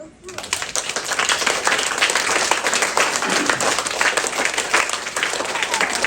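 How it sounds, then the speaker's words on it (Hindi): An audience at a spiritual talk claps hands together, a dense steady burst of applause rising quickly and holding for several seconds at close range. "दोनों हाथ उठा लो, ताली बजा लो ऊपर।"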